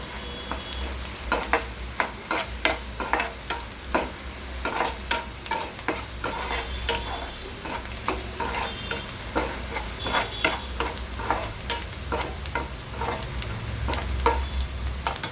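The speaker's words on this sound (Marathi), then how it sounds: "कढीपत्ता भाजताना आपण आपण यामध्ये लसूण टाकत आहे" Curry leaves and garlic fry in a pan for a Marathi drumstick curry, with steady sizzling throughout and repeated sharp stirring clatters and scrapes of a spoon against the pan, no talking.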